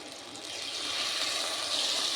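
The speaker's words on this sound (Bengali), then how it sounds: "মশলাটা ভালোভাবে কষানোর জন্য সামান্য পরিমাণে জল দিয়ে দেব।" A little water is poured into masala frying for a bhindi and potato curry, producing a brief rushing, splashing hiss that swells and steadies over about two seconds.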